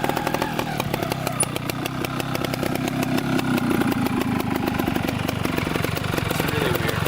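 A Beta 270 dirt bike engine idles close by, with a steady, rapid, slightly uneven two-stroke putter running throughout at a fairly loud level.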